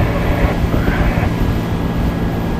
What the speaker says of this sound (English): Between the engines and the sea and the wind, you can't really hear anyone